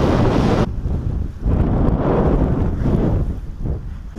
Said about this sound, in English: Yeah, wind's picking up a bit too much.